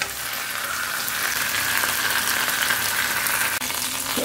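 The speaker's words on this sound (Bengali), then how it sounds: "দেখো কি সুন্দর করে ভাজা হচ্ছে। এটা চিকেনটা আগে ফ্রাই করে নেবে এরকম।" Chicken pieces fry in hot ghee in a pan, giving a steady, dense sizzle that holds at an even level for several seconds with no talking.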